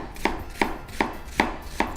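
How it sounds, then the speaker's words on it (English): A knife dices a red onion on a board in five crisp, evenly spaced chops, close and fairly quiet, with no voices. "I have to finish dicing this"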